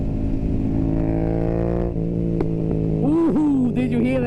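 A Yamaha MT-07 motorcycle with an Akrapovič exhaust revs up, pitch climbing then dropping, with a few sharp pops and crackles as it accelerates close by.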